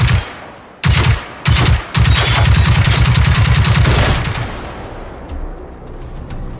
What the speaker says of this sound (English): Love the sound of this gun, though.